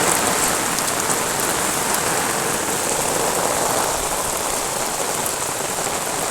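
Heavy rain pours steadily near the Junagadh dam, a loud, dense hiss of water hitting surfaces close by with no pause.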